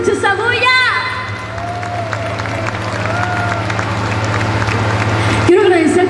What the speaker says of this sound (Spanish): ¡Fuertes los aplausos, que se escuche esa bulla!